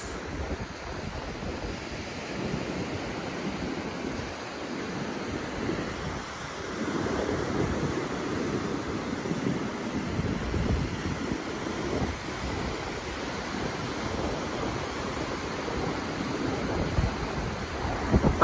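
Sea waves break below the Marataízes cliffs in a continuous rolling surf roar, with strong wind buffeting the microphone throughout.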